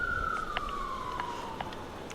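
A wailing siren tone slowly drops in pitch, heard continuously over background noise, with a few short tonal blips layered on top.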